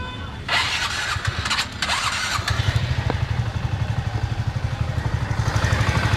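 A TVS Ntorq scooter with a freshly fitted engine starts up and settles into a steady, close idle with a rapid even putter, with brief voices over it.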